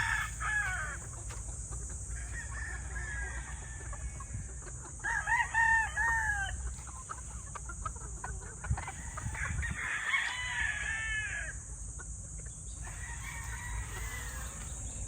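Several roosters of game-fowl breeds such as whites, greys, yellow-legged hatch and Kelsos crow one after another in a yard, with repeated overlapping crows at middling distance over a steady insect-like hiss and low background rumble.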